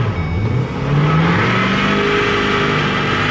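A Ford F350 dually pickup truck's engine revs up hard in second gear after a first start, rising to a sustained loud, close roar after a brief dip, with no speech over it.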